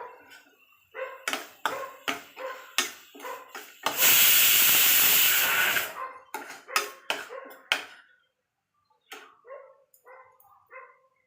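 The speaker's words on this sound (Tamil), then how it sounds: "இப்போ தக்காளி அரைச்ச தக்காளியை ஊற்றுவோம்" Ground tomato poured into a pan of sautéed onions for a kuzhambu curry, bursting into a loud, steady sizzle that lasts about two seconds, set between a run of sharp clattering knocks before and after.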